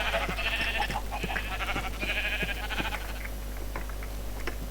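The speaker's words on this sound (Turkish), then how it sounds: "Başlar başlamaz koyun bulduk." A sheep bleats a few times in Minecraft, its wavering cries coming in short bursts over a constant low hum.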